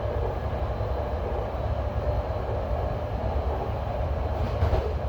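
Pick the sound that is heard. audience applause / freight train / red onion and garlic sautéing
freight train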